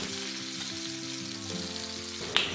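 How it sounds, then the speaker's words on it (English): A beef roast searing in a hot pan, giving a continuous close, even sizzle with no voices and a brief sharp tick near the end. "I like to sear my meat for a full 2 minutes on all sides."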